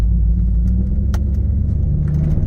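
A cammed 1998 Chevrolet Corvette with an LSX engine running on E85 idles or cruises with a deep, loping low rumble, steady and close, with faint clicks above it.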